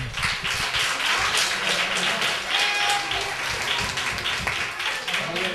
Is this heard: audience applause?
yes